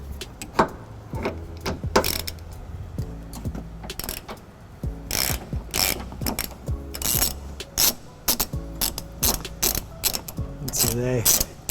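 Rapid ratchet clicking in bursts as bolts are spun out during a trailer hitch install under a 2015 Toyota Prius Plug-In, close and crisp metallic ticking with pauses and clanks between runs.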